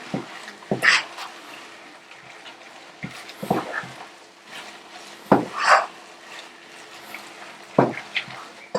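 A spoon scrapes and knocks against a saucepan in a few scattered bursts, stirring thick salmon risotto with parmesan, with quiet gaps between strokes.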